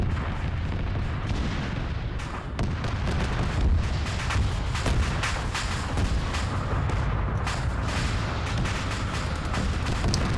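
Anti-tank shots and explosions in a mech combat video game rumble on continuously, heavy low booms and sharp bursts layered over a dense battle din throughout.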